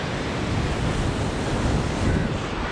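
Ocean waves wash steadily onto Kovalam Beach in Kerala, a continuous loud roar of surf mixed with heavy wind buffeting the microphone and no voices.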